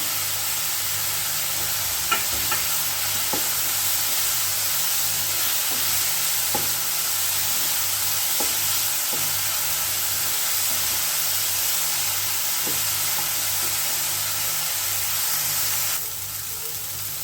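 Cluster beans fry in a pan over a medium flame, giving a steady sizzle and hiss while a ladle scrapes and taps now and then.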